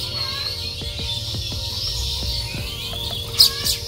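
A small bird, apparently a fledgling unable to fly, chirps outdoors in short repeated tweets over steady insect-like background hiss, with a couple of brighter, louder chirps near the end.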